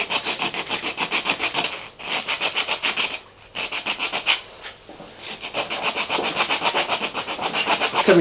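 Sandpaper rubbing back and forth on a small wing suit model part, a steady rhythmic scratching close by with brief pauses between strokes and no talking.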